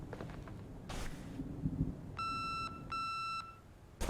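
A voicemail beep tone in the game The Suicide of Rachel Foster, sounding as two sustained electronic beeps of about half a second each, clear and mid-loud, preceded by a soft click and faint room noise.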